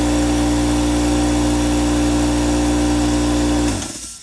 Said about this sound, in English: It'll run, but it does not pump up.